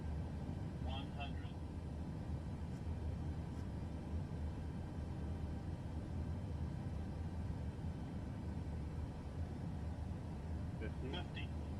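Airplane engine in a flight game during a landing approach: a constant broadband drone and rumble runs the whole time, with faint beeps and voices over it now and then.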